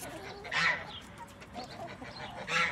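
A young Sumatra rooster clucks softly outdoors, with two brief louder calls standing out against quiet background noise.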